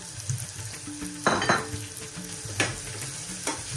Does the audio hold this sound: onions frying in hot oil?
yes